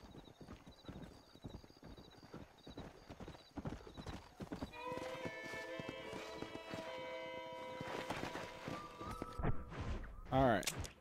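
Rhythmic clip-clop of horse hooves on hard ground in the video game Red Dead Redemption, close and steady, followed by a horse's whinny near the end.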